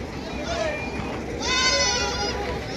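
Goats bleat in a livestock market, several short wavering calls rising over a constant crowd murmur and nearby voices, with one louder, closer bleat in the middle.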